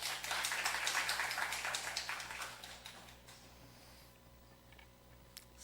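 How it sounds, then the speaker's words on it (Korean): A church congregation claps for its retired pastor, a brisk burst that fades over about three seconds into near quiet with a low hum beneath. "우리 박수 부탁합니다."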